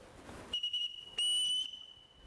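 A shrill bosun-style whistle is blown as a household call signal in The Sound of Music, two distinct tonal blasts, the second louder and longer, close and alone against a quiet room.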